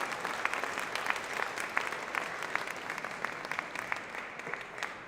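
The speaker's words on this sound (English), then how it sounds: "I want to give them a round of applause today as well." A crowd claps steadily for several seconds, a sustained round of applause with no talking over it.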